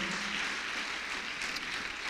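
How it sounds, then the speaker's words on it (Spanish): Worshippers in a church congregation clap together in praise, a continuous broad wash of applause from many hands, heard at a moderate distance without any speech over it. "Dele un aplauso al Señor Jesús"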